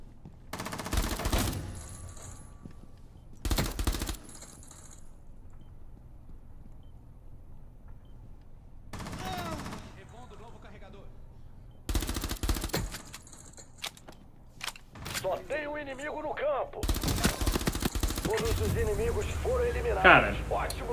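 Hip-fire gunshots in the mobile shooter Rainbow Six Mobile, sharp bursts of rapid automatic fire in separate clusters with quiet gaps between them, loud and close, with a voice speaking at times.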